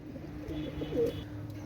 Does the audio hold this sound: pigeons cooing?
yes